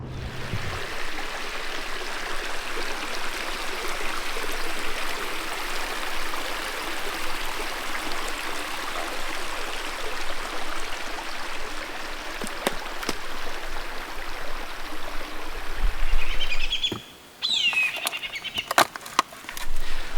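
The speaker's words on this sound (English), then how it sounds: "We've just stopped off at this river for a bit of lunch" A river at a lunch stop in Western Arnhem Land flows with a constant, even rush of water, steady and fairly close, with a few faint clicks and a brief dip near the end.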